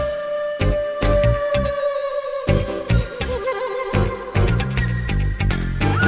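Flute samples in a beat made in FL Studio, a wavering melodic line with vibrato over thumping drums and bass that runs continuously at a full, even level.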